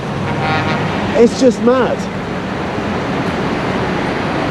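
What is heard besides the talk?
busy street traffic in Beirut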